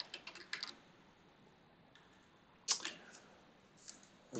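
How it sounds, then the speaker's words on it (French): A computer keyboard is tapped in short bursts while text is typed into Microsoft Word, quiet close clicks in clusters separated by pauses, without talk. "il suffit de cliquer dessus et de venir taper directement avec le texte, avec le clavier"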